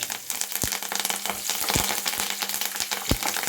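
Dry red chillies and curry leaves dropped into hot oil, crackling and sizzling steadily up close with sharp pops scattered throughout, no voices.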